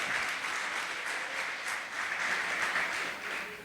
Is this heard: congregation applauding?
yes